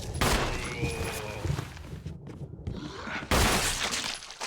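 Gunfire in the Resident Evil 1 Remake video game, sharp loud blasts opening and closing a short span, with crackling impacts and a quieter gap between them.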